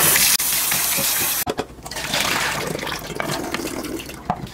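Mutton liver is rinsed under a running tap, with water gushing and splashing into a sink, interrupted by brief pauses and shifts as the meat is handled.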